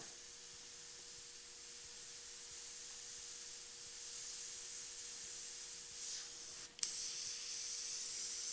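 An airbrush sprays black and grey paint onto a leather saddlebag, a steady soft hiss running throughout with a brief sharper burst near the end.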